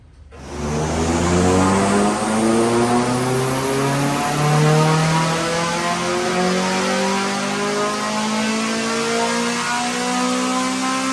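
A freshly painted car starting up and pulling out of a workshop, engine firing then revving and droning steadily as it accelerates away, loud and close throughout.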